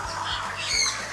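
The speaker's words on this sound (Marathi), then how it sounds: "भरपूर सारे सन कनूर आहेत इकडे" Sun conure parrots in an aviary give two or three loud, harsh squawks in quick succession, close by.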